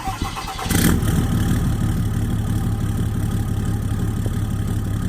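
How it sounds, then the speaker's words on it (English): A 500K-mile hotshot truck cold-starts with a brief crank, then its engine catches and settles into a loud, steady idle rumble, close by with no talk. "let's fire this truck up"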